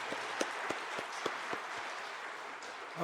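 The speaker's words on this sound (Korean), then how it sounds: "하나님께 영광의 큰 박수를 올려드리겠습니다." Steady applause from a church congregation fills the room, a dense wash of many hands clapping with a few sharper claps standing out.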